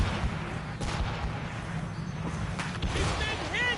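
Ship cannon volleys roar in Assassin's Creed Rogue as a dense, continuous rumble of blasts and booms mixed with battle noise, steady and fairly loud throughout.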